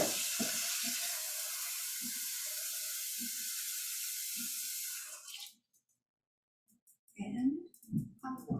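Water from a kitchen tap pours into a sink with a steady close hiss for about five seconds, punctuated by soft low knocks, then cuts off, leaving silence before a few dull thumps and handling noises.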